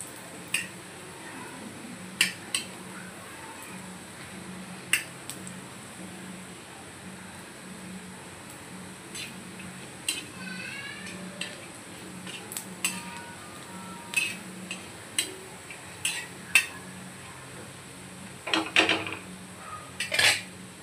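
Dry grated coconut being roasted in a pan, heard as a quiet background with repeated sharp clinks and scrapes of a spoon against the metal pan at irregular intervals.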